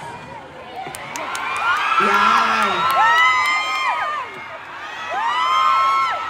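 A crowd of fans at a mall fan event at SM Seaside City Cebu cheers, whoops and shouts loudly and continuously, with one voice calling out above the roar.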